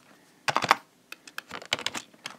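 Code typed on a computer keyboard, two quick bursts of close, crisp key clicks separated by a brief pause, with no voices.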